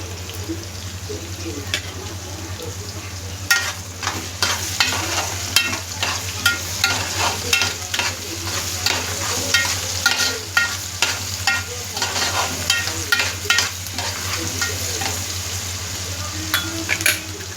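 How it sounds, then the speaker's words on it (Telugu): Onions and tomatoes stew and sizzle in a pan while a spoon stirs, giving repeated scraping knocks over a steady low simmer. A faint hum runs underneath, and the sounds are close and moderately loud. "ఉల్లిపాయలు టమాటాలు బాగా మగ్గుతున్నాయండి"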